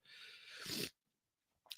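A single muffled sneeze, fairly close and soft, followed by silence and a brief sharp sniff or breath at the end.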